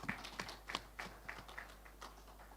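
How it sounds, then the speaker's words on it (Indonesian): Small, sparse audience applause at a general assembly report, a handful of distinct claps spaced out in an uneven rhythm, thin and modest rather than a full ovation. "Kok tepuk tangannya kecil?"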